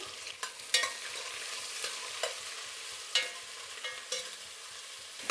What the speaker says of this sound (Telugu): ఇప్పుడు ఎర్రగడ్డలు వేసుకుందాం. ఎర్రగడ్డలు కూడా బాగా వేగాలి.